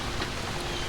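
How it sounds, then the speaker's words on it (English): Steady rain falls in a dense, even hiss, close and moderately loud for the whole brief moment, with no voices. "it's raining."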